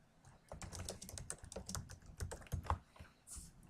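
Computer keyboard typing while composing an email, with backspace, shift and return keys struck: quiet, irregular clusters of close key clicks over a few seconds, no voices.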